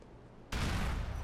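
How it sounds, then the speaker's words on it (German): A car explodes in the video game GTA IV: a sudden loud blast cuts in after a quiet lull and rolls on as a dense, sustained roar of fire and debris, with no voices. "Ja, da explodiert der Wagen direkt."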